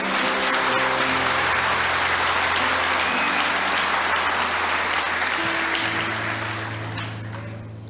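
Congregation applauding at a church service, steady dense clapping filling the room throughout, with sustained organ or keyboard tones underneath, swelling slightly and then easing off toward the end.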